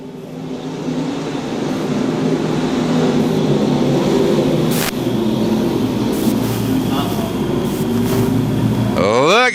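Stock cars racing at Lakeside Speedway under green flag, a loud continuous engine roar from the field with passing surges, while a commentator talks over it.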